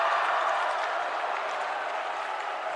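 Crowd at a Pomona-Pitzer versus CMS college volleyball match roaring after an ace, a dense, sustained wash of cheering and clapping that fills the gym evenly with no break.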